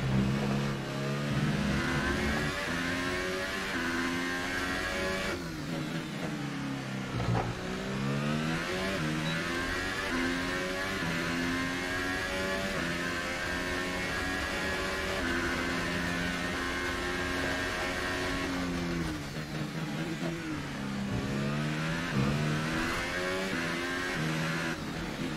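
McLaren Formula 1 car engine in the F1 2018 racing game at the Azerbaijan Grand Prix, a steady high-revving buzzing drone with brief dips for gear shifts, loud and continuous with no talk.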